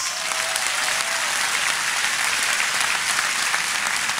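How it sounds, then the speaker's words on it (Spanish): Large outdoor crowd at a political rally in Pahuatlán, Puebla applauds the migrants, a dense, even wash of clapping that holds steady throughout with a faint voice briefly at the start. "Un aplauso para los migrantes."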